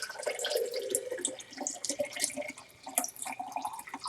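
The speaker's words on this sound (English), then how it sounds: "Take it and fill up your mason jars." Water runs steadily from a dispenser tap into mason jars, giving a continuous close splashing and trickling sound with small drips throughout and no voices.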